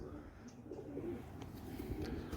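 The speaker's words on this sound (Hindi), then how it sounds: "ये पिपला वाला कबूतर है और हमारी इस साइड पे बहुत ज़्यादा हैं" A pipla breed pigeon coos low and soft in a village loft, its murmuring calls steady under faint background noise, with a few small chirps.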